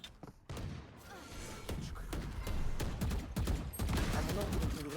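Bursts of gunfire from the Valorant video game crack in rapid irregular volleys with heavy thuds, fairly faint, while a player's voice talks over the shooting.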